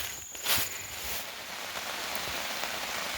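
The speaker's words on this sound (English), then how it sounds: "It's finally freaking raining." Rain falls steadily in a soft, even patter, with a slightly louder burst of drops near the start.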